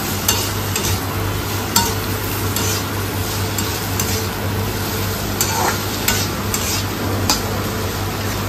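Potatoes for a chorchori fry in a pan while a spatula stirs them, a constant close sizzle broken by scraping and tapping strokes against the pan, with no talk.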